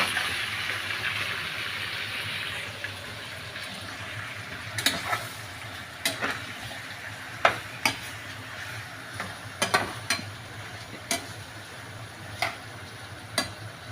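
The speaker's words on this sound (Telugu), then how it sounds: "పచ్చివాసన పోయినంత వరకు బాగా ఎర్రగా మగ్గేంత వరకు అయితే నూనెలో ఎంపుకున్నామండి" Brinjal curry cooking in plenty of oil gives off a continuous, close sizzle, louder at first and then softening, broken by sharp, scattered ticks of a spoon knocking the pan.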